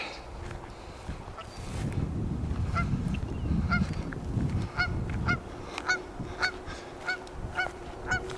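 Geese near their goslings honk outdoors in repeated sharp calls. The calls come in a loose rhythm over the second half, close and fairly loud, above a low rumbling background.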